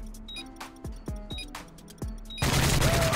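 Gunfire in Modern Warfare 3 with a few separate sharp shots and ringing tails, followed by a burst of dense, noisy firing at the end; no talking.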